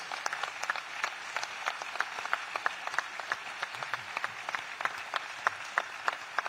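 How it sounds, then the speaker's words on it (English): A crowd gives a sustained round of applause for Representative Hart at a Bernie Sanders event, steady distant clapping with sharp individual claps standing out over a roomy hall. "Let's give him a big round of applause"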